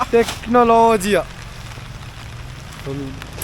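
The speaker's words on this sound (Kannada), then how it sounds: "ಫುಲ್ ಮಳೆ ಬರ್ತಾ ಇದೆ" Heavy rain in the Valparai forest patters steadily in the background while a person talks and calls out over it near the start and end.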